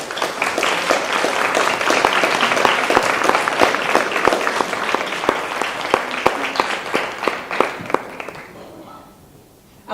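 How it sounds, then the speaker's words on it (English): A crowd applauding steadily with dense, sustained clapping and a few louder individual claps, fading out near the end. "Can you guys give a round of applause?"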